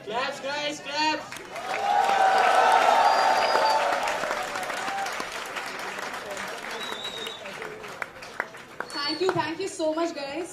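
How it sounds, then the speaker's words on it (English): Loud applause and cheering from a tech fest audience after a bouquet presentation to an actress, swelling in the middle and fading, with a voice speaking over the opening and closing moments. "Claps guys, claps!"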